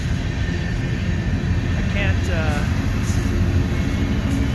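A train passes close by on a cold day outdoors, its steady low rumble and broadband roar filling the whole stretch without pause, with a brief spoken word over it.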